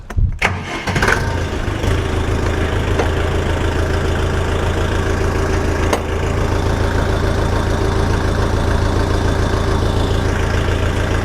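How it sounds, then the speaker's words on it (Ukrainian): A Dong Feng 404DHL mini tractor with a four-speed gearbox cranks and fires up, then settles into a loud, steady, close diesel idle with a low throbbing rumble. "Давайте запустимо його."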